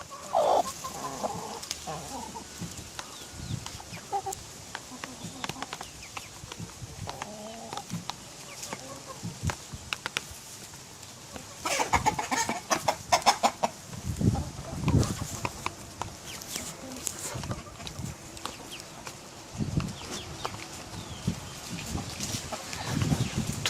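Farmyard chickens cluck and call repeatedly at close range, with scattered sharp bursts and some rustling and movement noise around them.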